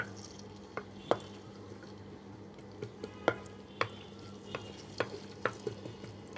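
Chopped garlic and ginger frying in a pan make a steady low sizzle. About ten sharp scraping stir strokes rise above it at uneven intervals, and no one talks.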